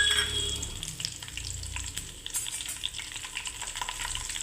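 Curry leaves crackling in about two spoons of hot oil in a pan with bay leaf, cinnamon and cloves, a loud close sizzle with stirring scrapes that eases slightly after the first moments.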